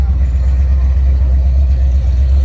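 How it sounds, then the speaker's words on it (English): A classic car's loud engine rumbles steadily up close, a deep continuous idle with no break and no voices over it. "Loud engines."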